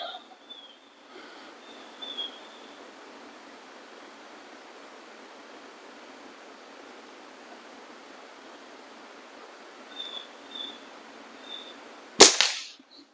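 A single sharp crack from an Air Venturi Omnistorm air rifle near the end, loud and close, following a long stretch of quiet outdoor hiss with faint distant birds.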